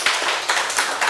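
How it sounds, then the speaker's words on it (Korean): A church congregation claps together at a Friday prayer meeting, several quick bursts of hand claps close by, with almost no talking. "박수 한번 하겠습니다."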